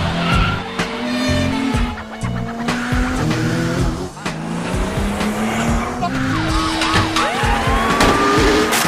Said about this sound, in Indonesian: ia pun segera menunjukkan mobilnya tersebut untuk meninggalkan tempat ini dengan kejaran mobil polisi di belakangnya